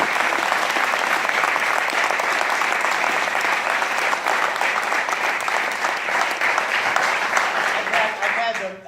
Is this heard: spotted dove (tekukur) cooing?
no